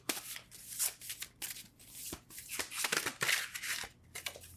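Repeated crisp riffling and flicking of an Ethereal Visions tarot deck being shuffled by hand, close up, in quick irregular bursts with no talking.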